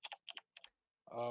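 A clicky computer keyboard gives three short, crisp bursts of keystrokes up close before a voice starts speaking right at the end.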